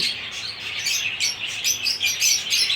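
Caged lovebirds chirp in quick, bright, overlapping tweets, a busy continuous chatter close by and moderately loud, with no talking.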